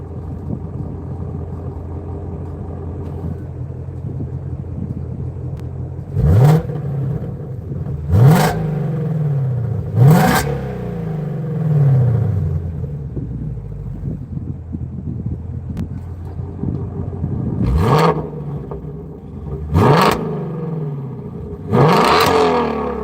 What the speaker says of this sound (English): So 3 revs with them closed, and then 3 revs with the valves open.